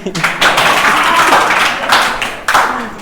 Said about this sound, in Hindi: बच्चों बजाओ ताली